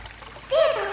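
Water splashing in Zelda: Twilight Princess, a sudden louder splash-and-churn rising midway after quieter gurgling, close and fairly loud.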